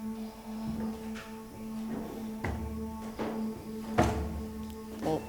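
Footsteps in the attic of an abandoned swiftlet-nesting building in Cirebon: a few scattered, irregular thuds and taps, moderately close, over a steady low electrical hum.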